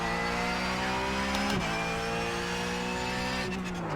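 A Porsche 911 GT3 Cup car in the iRacing simulator, its loud steady engine drone sliding in pitch as it slips off into the grass, with a brief scrape partway through and no talking.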